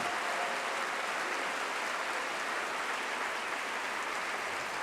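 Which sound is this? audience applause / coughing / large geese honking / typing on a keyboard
audience applause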